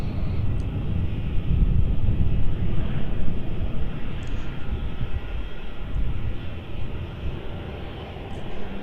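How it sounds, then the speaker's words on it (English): A Malaysia Airlines Airbus A330neo lining up on the runway at Melbourne Airport, a low, rumbling engine drone that swells and eases slightly, with wind noise and no talking. "Let's catch the Malaysia 330 Neo. It's lining up."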